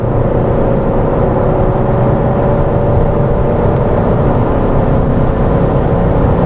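Steady, loud engine drone of an Alfa Romeo GT cruising in fourth gear near 3000 rpm, a continuous low hum with road and wind noise inside the car, no talk.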